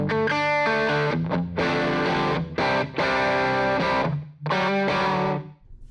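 Distorted electric guitar through an amp with room reverb, played as sustained chords and notes in phrases with short gaps, the reverb tail lingering between them, loud and close.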